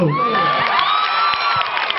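A mimicry show audience cheers and whoops loudly in a sustained burst of overlapping high voices, with faint claps mixed in.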